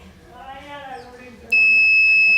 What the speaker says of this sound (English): the buzzer would buzz.